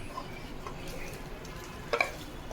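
Chicken kurma frying with chili powder in a pan, a faint, steady low sizzle with a soft scraping stir and one brief clink near the end.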